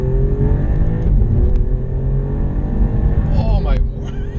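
An Alfa Romeo Giulia Quadrifoglio accelerates hard on an open road after a downshift, its engine a loud, sustained roar that climbs in pitch with a brief rise near the end, heard from inside with a voice talking over it.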